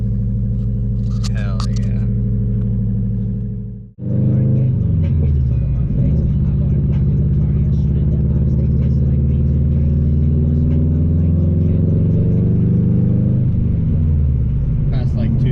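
A Subaru WRX engine under front-end repair rumbles as it idles, cuts out briefly, then catches again and settles into a loud, steady idle with some revving. Someone speaks briefly over it.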